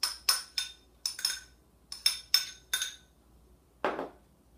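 A utensil knocking and clinking against a bowl while mashed avocado guacamole is mixed, seven or eight sharp close taps in an uneven rhythm followed by a softer scrape, no voices.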